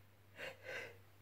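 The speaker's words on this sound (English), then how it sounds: "I'm going to sneeze." A single person sneezes up close, with two soft, breathy inhales as the sneeze builds and a sharp burst at the very end.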